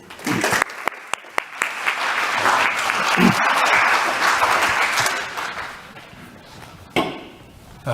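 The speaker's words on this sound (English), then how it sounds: "Let's give them a round of applause." An audience claps loudly for several seconds, applause swelling and then fading out, with a few sharp claps near the start and end.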